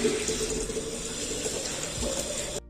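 Water filling a small clay pot in a home kitchen: a steady splashing, gurgling stream that runs without pause and then cuts off abruptly.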